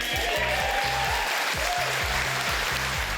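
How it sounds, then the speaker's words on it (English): A crowd at Peter Dutton's federal election campaign launch breaks into loud, sustained applause, a thick continuous roar of clapping with a low rhythmic pulse running beneath it. "One of the biggest rounds of applause coming after a call to unify the country and the flag."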